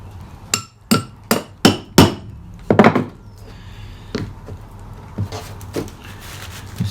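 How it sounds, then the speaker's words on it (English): Hammer blows strike SDS bits to drive caulking rope into a narrowboat seam, five sharp taps in quick rhythm followed by a sixth heavier thud, then several lighter, spaced taps, all close by. "I'm going to use a couple of SDS bits and just hopefully tap the rope down in tight"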